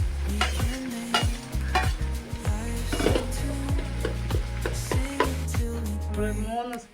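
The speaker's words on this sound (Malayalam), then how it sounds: "ഇനി അതിലേക്ക് കരിവേപ്പില, ഒത്തിരി ഉണക്കമുളക് ഇടണേ." Curry leaves and dried red chillies crackle and sizzle in hot oil alongside beetroot, with a spoon stirring and scraping against the pan in a busy rhythm, close and loud, and a faint voice in the background.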